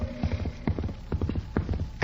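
Horse hooves clip-clop in a radio drama sound effect, a steady run of close, hollow knocks in uneven pairs against a low hum, with no talk.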